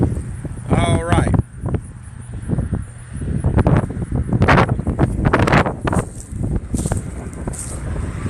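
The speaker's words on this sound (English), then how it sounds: "Lots of wind out here. Super windy today." Strong wind blowing outdoors beside tiny Amish-built cabins and solar panels, a steady rushing roar buffeting the microphone while someone talks over it.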